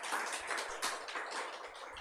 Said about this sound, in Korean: 이렇게 4분 박수로 축하해 주시기 바랍니다.